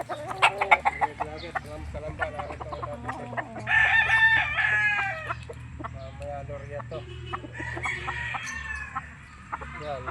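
Backyard gamefowl roosters and chickens on a breeder's farm in Rosario, Batangas, clucking close by with a loud drawn-out crow in the middle and a second fainter crow later, while someone talks intermittently.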